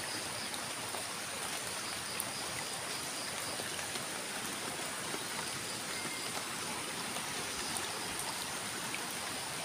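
A strong, fast river current rushing steadily, a dense continuous wash of flowing water that stays even and fairly faint throughout, with no one speaking.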